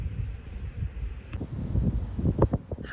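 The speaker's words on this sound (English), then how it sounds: "enjoy this beautiful wind and the beautiful sun" Wind gusts buffet the microphone in a backyard on a sunny day, a low, rough rumble that swells and eases with a few faint rustles.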